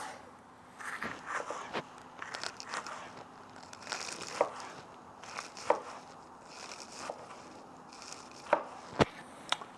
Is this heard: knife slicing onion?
yes